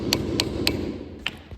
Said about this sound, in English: Just knock back the tab